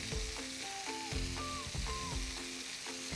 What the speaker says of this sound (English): Make sure you cook all the sides of the beef roll so it's evenly cooked.